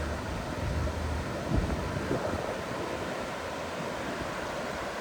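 Water pours over a river weir on the River Derwent near Hathersage in the Peak District, a steady, broad rushing wash heard at moderate distance outdoors, with light wind buffeting the microphone and a couple of soft footstep-like knocks.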